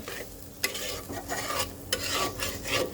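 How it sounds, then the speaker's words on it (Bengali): Thick spice paste (masala) for chicken biryani sizzling and frying in a pan, with a spoon or spatula stirring it in repeated scraping strokes and a few sharper knocks against the pan, steady and close. "আর কিছুক্ষণ কষুক দেখো মশলাটা কিন্তু বেশ কিছুক্ষণ কষানো হয়ে গেছে"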